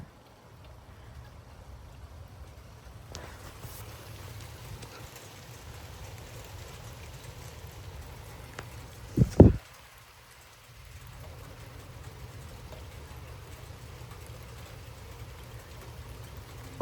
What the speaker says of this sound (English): Well, here comes the rain.